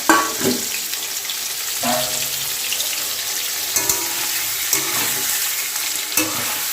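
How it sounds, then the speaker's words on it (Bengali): Potato pieces fry in oil left over from frying pointed gourd, giving a steady bubbling crackle broken every second or two by louder scraping stirs of the spatula against the pan. "সেই তেলটাতে আলুটা ভাজি"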